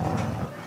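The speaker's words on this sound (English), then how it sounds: "This barking was pre-recorded." A boxer dog's pre-recorded bark, one short, close, fairly loud burst that fades quickly.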